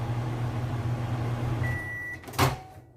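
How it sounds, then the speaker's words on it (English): A microwave oven hums steadily while melting chocolate chips coated in butter, a low even drone, then a brief beep and a sharp click near the end as it stops. "the reason you're covering the chocolate chips in the butter is to help them melt in the microwave"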